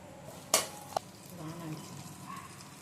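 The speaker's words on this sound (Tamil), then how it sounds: "பட்டை, லவங்கம், ஏலக்காய் எல்லாம் போட்டு ஒரு தாளி" Cinnamon, cloves and cardamom tempering in hot butter or oil in a pan, with a sharp clatter as the spices go in, a second smaller knock, then a soft low sizzle and faint stirring, close and quiet.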